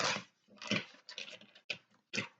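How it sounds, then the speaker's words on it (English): A dog outside barks in a series of five short, sharp bursts with brief gaps between them, heard at moderate distance and somewhat faint. "my dog started barking"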